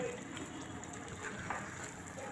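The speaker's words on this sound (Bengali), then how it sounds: "মশলা ধোয়া জলগুলো দিয়ে দেব।" Spice-rinsing water poured into a pan of restaurant-style chicken chaap, a steady soft splashing and gushing of liquid lasting a couple of seconds, close by and fairly quiet.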